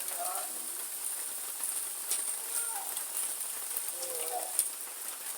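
Steady rain falls with a constant hiss on a goat farm during the rainy season, with a few faint voices and scattered taps underneath.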